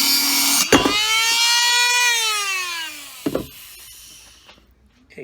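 A cutting tool bites into an exhaust tailpipe with a loud, close, rising-then-falling metallic whine. Sharp clanks sit at either end, and a quieter scrape trails off.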